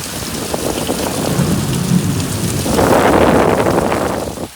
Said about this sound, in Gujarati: અને આમ ધોધમાર વરસાદ પડે છે.